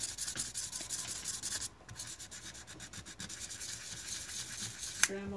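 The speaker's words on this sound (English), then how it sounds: "Dremel time." A Dremel rotary tool polishing gives a scratchy, rubbing grind that pulses rhythmically, close and fairly quiet, ending with a brief sharp click.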